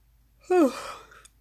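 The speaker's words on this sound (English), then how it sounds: "Sorry guys, I just yawned." A single short, breathy yawn rises and fades, close by and alone.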